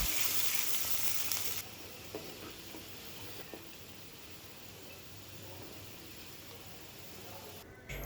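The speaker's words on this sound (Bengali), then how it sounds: "এখন আমি ভালো করে একটু ব্রাউন কালার করে ভেজে নিব।" Chopped onion and crushed garlic frying until brown in a pan, a steady close sizzle with occasional stirring clinks and scrapes, louder at the start and at the very end, with no talking.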